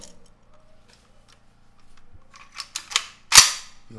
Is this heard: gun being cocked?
yes